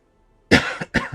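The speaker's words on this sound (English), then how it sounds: "Don't judge me for coughing" Two quick, close coughs in succession after a brief silence, the first rougher and longer than the second.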